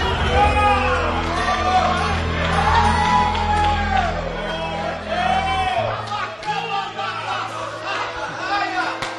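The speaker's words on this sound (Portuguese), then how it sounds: "Quem pode dar um grito de glória a Deus por esta palavra?" Church congregation shouting glory to God during a sermon, a loud sustained mass of whoops and cheering voices swelling and tapering over about nine seconds.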